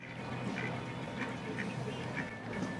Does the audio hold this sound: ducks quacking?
yes